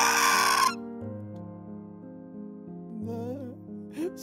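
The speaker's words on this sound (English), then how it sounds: "this bird is so noisy" A loud burst of bird squawking opens, followed by sustained tonal hum and a few short chirpy cries later on.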